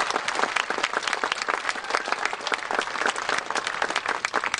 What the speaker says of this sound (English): let's give everyone that's like grandmother's quilt a round of applause this morning